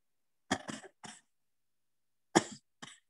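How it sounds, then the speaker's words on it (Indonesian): Coughing demonstrated as a typical acid reflux cough, a short burst of two or three close coughs, a pause, then another pair, loud and near with no talk. "tapi kalau batuk asam lambung,"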